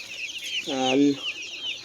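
A single broiler chicken on a farm gives one short harmonic call, rising then falling, over a steady hiss of background noise.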